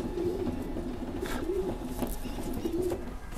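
Pigeons cooing inside a pigeon breeding loft, giving repeated low, soft rolling coos in a steady rhythm over constant loud background noise.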